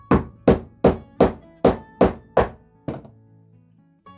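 Eight sharp metallic taps of an old body hammer tapping out a knife pin strike in a steady rhythm, close and crisp, then stop, leaving a faint ringing and a soft knock.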